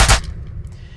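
Single punchy designed gunshot layered from household objects, a sharp loud crack with a deep boom that decays quickly into a soft, fading rumble.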